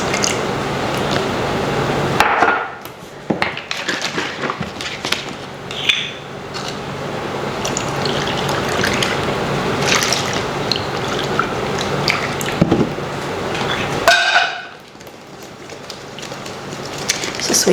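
Cornbread batter of eggs, milk and margarine being stirred in a bowl, a steady wet squishing and slapping with utensil knocks, continuous and close for most of the stretch with brief pauses.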